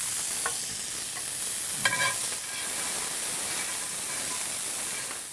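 Garbanzo beans and chorizo sizzle steadily in a hot pan over a gas burner, a constant bright hiss with a few brief stirring scrapes near the two-second mark, with no talking.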